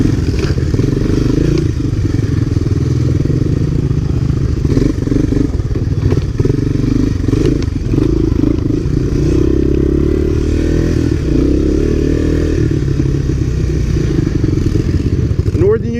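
Honda ATC three-wheeler trikes, a 1985 and 1986 Honda Big Red and a 1985 ATC250SX, churn along a rocky, rooty, muddy Northern New Jersey trail: a steady, close engine drone runs throughout with clatter and thuds from the rough ground.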